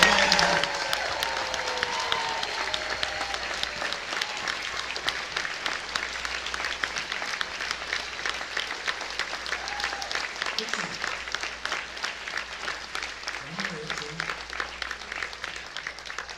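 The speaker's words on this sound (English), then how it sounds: "massive round of applause?" Long, steady audience applause at a furry convention's closing ceremony, a dense crowd of many hands clapping continuously and moderately loud, with faint voices and cheers scattered through it.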